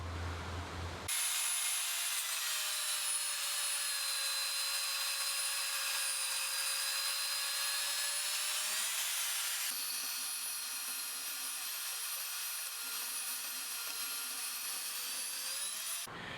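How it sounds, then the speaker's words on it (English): A bandsaw cuts the rough profile of a mosaic Damascus steel EDC cleaver blank, a steady high whine and metallic hiss that runs continuously, with the cutting tone shifting partway through; no one speaks. "Now I'm going to cut out the rough profile on the bandsaw."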